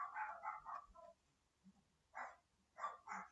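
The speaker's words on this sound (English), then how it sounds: "I don't know what they're barking at." Dogs bark in short, sharp bursts at a distance, a quick cluster of yaps followed after a pause by two more separate volleys, against a quiet background.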